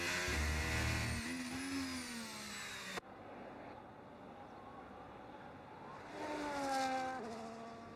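Engines of F1 race cars whine in an F1 racing video game during the Singapore Grand Prix, a high-pitched roar that shifts pitch, briefly cuts, then rises again as a car heads into the pit lane.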